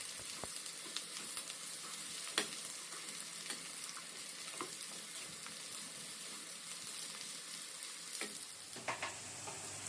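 Onions soften in butter or ghee in a pan, sending up a faint, steady crackling sizzle with scattered small pops and occasional stirring sounds, and a slight shift right at the end.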